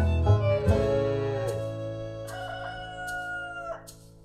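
A rooster crows loudly nearby, one long drawn-out call followed by a couple of shorter crowing bursts.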